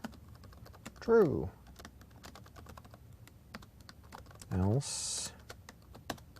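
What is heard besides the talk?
typing on a new laptop keyboard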